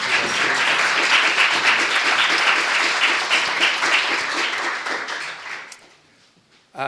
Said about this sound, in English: Can we have one more round of applause for all of our students?